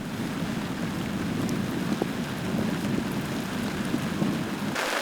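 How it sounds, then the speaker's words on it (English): Heavy, steady rain falls on a camp in the muddy southern Icelandic highlands, a dense continuous hiss with close drops pattering throughout and a sharper burst near the end. "The rain showed no signs of letting up"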